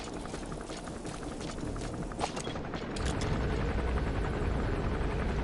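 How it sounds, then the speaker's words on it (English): An enemy helicopter gunship in Metal Gear Solid V, its rotor throbbing steadily and fairly loud, growing heavier and closer partway through amid mechanical rattling and game ambience, with no talking. "That's an enemy gunship."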